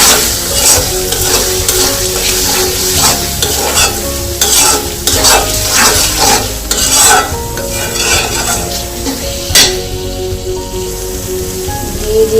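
Spicy Singapore-style prawns stirred in a hot pan with sugar, a loud continuous sizzle and crackle of frying with scraping and stirring noises throughout, close up and with no talk.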